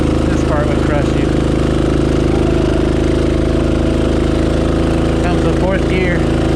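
Rokon motorbike engine on a hill climb, a continuous loud, low chugging drone with steady harmonic hum; someone talks over it at times.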